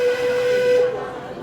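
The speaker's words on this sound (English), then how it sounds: "Guess how close the train is." A train whistle near the Camp Woodchuck Kitchen area of Tokyo Disneyland gives one loud, steady tone for just under a second, then fades into the background.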